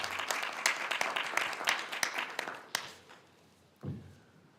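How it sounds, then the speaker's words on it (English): Applause for students at a school board of education meeting, a modest room's worth of clapping with distinct individual claps that thins out and fades after about three seconds, followed by a soft thud. "if we can give them a round of applause this evening"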